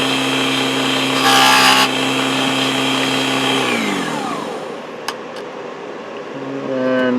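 A Proxxon DB 250 microlathe turns a small wooden tenon for a nutcracker leg, its steady motor whine briefly roughened by a tool cutting the spinning wood, then spinning down to a stop before starting up again.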